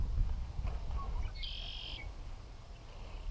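A single bird calls outdoors near water during kayak bass fishing, a brief high whistled note standing out over low wind and water rumble.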